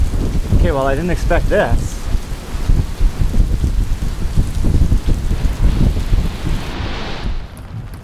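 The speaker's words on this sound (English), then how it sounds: "there's our big storm that was just walking on us. Ooh, it's full of lightning." Heavy rain and a thunderstorm roar over a sailboat at anchor, with loud, continuous downpour and rumbling; a voice speaks briefly near the start.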